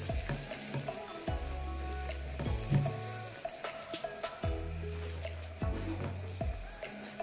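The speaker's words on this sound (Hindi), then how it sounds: "इसको उतनी देर तक हमने भूनना है जितनी देर तक हमारा जो मैदा है अच्छी तरह से भून जाए" Flour roasting in melted butter in a pan gives a low, steady sizzle. Repeated spatula scrapes and knocks mark a brisk stirring rhythm, close and clear, with no voices.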